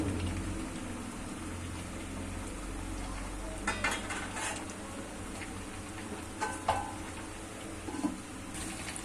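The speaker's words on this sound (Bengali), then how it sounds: "আস্তে আস্তে নেড়ে দিই" Vegetables for Bengali sukto, including bitter gourd, are stirred slowly in a pan over a gas flame. A soft, steady sizzle runs underneath, broken by a few light scraping and tapping strokes of the spatula near the end.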